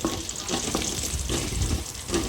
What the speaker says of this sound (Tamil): பூண்டு முழுசும் அப்படியே உரித்து போட்டுக்கோங்க நாலு சின்ன வெங்காயம் போடணும் எல்லாத்தையும் நல்லா வறுத்துக்கணும்